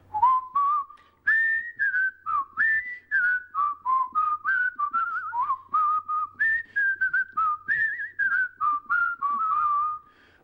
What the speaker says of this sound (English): The most popular whistle, what do you think it is? I would probably have to say it's the old Andy Griffith.